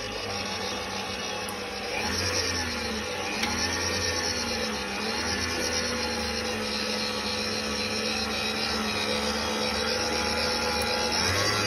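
A stand mixer kneads bread dough at third speed, giving a steady, loud motor whir with a rough rubbing churn that runs without a break. Nobody speaks.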